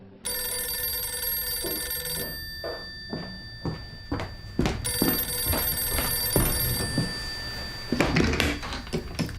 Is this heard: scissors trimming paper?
no